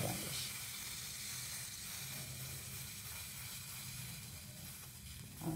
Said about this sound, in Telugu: చూడండి పొంగిపోతుంది.